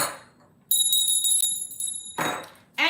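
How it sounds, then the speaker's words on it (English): A small bell rings a clear, sustained metallic tone that lingers for over a second amid soft clatter, followed by a couple of short, noisy bursts. "Where's my bell?"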